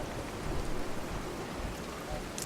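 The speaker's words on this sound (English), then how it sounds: "I wish it wasn't raining." Steady, dense rain hiss in the game Fallout 4 fills the whole moment, an even wash of patter with no gaps and no voices.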